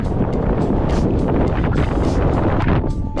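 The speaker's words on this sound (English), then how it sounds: "As you'll have heard there, it is still quite gusty" Gusty mountain-summit wind on Mount Keen roars and buffets the microphone for the whole stretch, loud and unbroken, with no speech.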